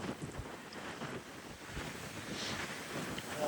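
Strong Northeast Atlantic wind gusts of about 60 mph roar across a microphone beside rough ocean waves, a steady buffeting rumble with surf washing underneath, loud and continuous, with no speech.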